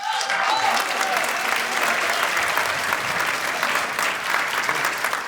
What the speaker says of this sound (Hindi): आप सबके भरपूर तालियों में मुबारकबाद